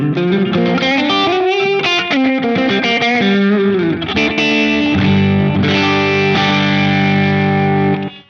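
Electric guitar through a Blues Breaker overdrive pedal, played as a run of single notes and chords with light distortion, loud and close, ringing out at the end with no talking.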